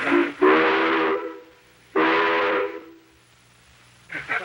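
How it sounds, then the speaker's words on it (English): Chain-pulled whistle on a diesel locomotive, sounded in two long loud blasts of about a second each, with a third starting at the end, heard close from inside the cab. "Do you suppose anybody'd mind if I blew this whistle?"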